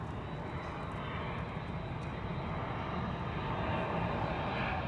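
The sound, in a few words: airplane flying overhead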